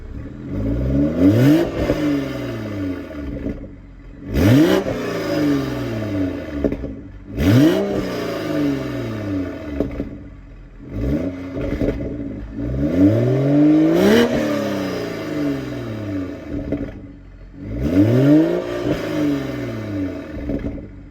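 Toyota A90 Supra fitted with a CTS Turbo downpipe revved to about 3,500 RPM, six repeated rising blips roughly every three seconds with a raspy exhaust note that falls back to idle between them, close and loud.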